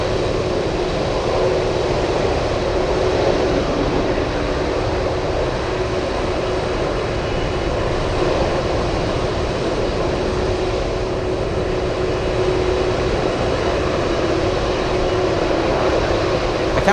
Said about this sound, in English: We have a DC-10 taking off from Elmendorf Air Force Base